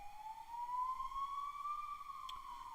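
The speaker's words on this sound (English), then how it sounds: "if you're hearing the ambulance" An ambulance siren wails outside in a long, steady rising-and-falling tone, moderately distant and alone without speech.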